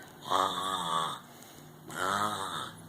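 A voice imitates snoring: two long, drawn-out rasping snores, each followed by a short pause.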